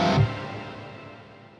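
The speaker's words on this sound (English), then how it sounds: "And then also here this shimmer, reverb, and shimmer delay, which sound like this." A shimmer reverb and shimmer delay effect from Overloud TH-U guitar software: a short bright guitar tone fades into a soft, high, organ-like wash that slowly decays over about a second and a half.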